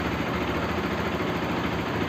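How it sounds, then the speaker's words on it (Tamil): A Bajaj RS200 motorcycle engine idles steadily nearby after starting, a continuous low rumbling drone with no changes in pace and no talking. "பைக் பக்காவாக ஸ்டார்ட் ஆகிடுச்சு."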